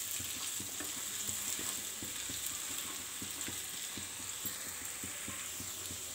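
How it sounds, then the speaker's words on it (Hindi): Potatoes fry in a pan with a steady close sizzle while a spoon stirs them in regular soft knocks against the pan; no talking. "बाकी आलू को आउ एथरे आमे एड करदे। इनके भले से मिक्स करदे।"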